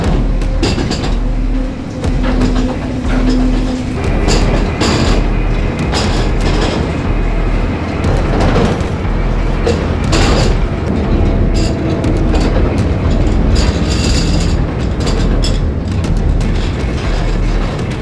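A mine tour train rumbles along rails inside an old copper mine, a loud, continuous rolling roar with clattering and squealing for about eighteen seconds and no clear talk.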